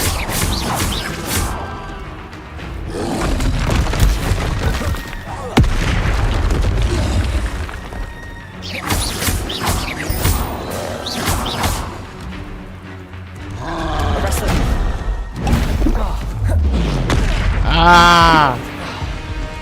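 Incendio and Confringo spell blasts in Hogwarts Legacy burst as loud booming fiery explosions, repeated through a dense, busy game soundscape with crackling impacts, and a voice calls out over them.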